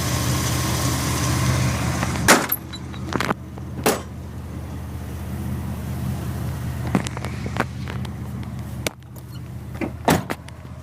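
A 2004 Chevy Blazer custom show truck with a K&N cold air intake idles with a low, steady hum. Sharp door clunks and brief mechanical thumps break in several times.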